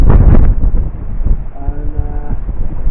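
Cold westerly wind buffets the microphone on the shore by Aberdour lighthouse, a steady low rumble with a heavier gusty burst at the start, then settling to a continuous dull roar.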